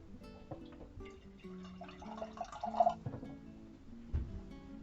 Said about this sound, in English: I'm going to get a little quick cup of water here.